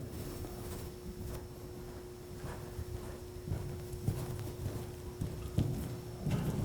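Horse hooves clip-clop across the arena during a show-jumping clinic, a steady series of moderately loud hoofbeats over a constant low hum, with no talk.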